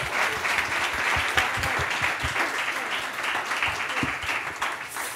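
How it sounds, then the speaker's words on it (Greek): A conference audience applauds its discussion panel with sustained, lively clapping from a full room, steady and fairly loud before tapering slightly at the end. "Ένα μεγάλο χειροκρότημα για το πάνελ μας"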